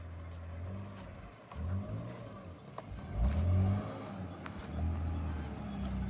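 BMW 325xi creeping forward under its own power after a fuel-pump fuse fix, a faint low engine rumble rising and falling with a couple of soft revving swells, heard from a short distance.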